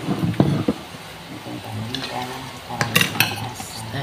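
Garlic toasting in cooking oil on a grill for fried rice, with a steady soft sizzle under close scraping and clattering of a spatula against the pan, mostly without talk.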